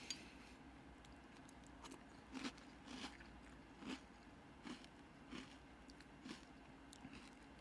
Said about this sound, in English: Sorry, it's super crunchy cereal.